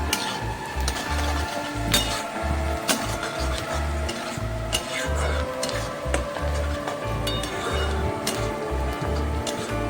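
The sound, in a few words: stirring and sautéing turmeric in a pan for eggplant bharit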